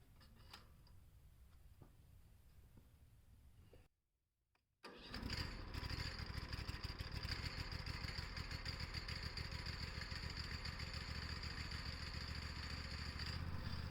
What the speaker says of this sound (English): I just throttled it up, and that's how the centrifugal clutch will engage to start the blade spinning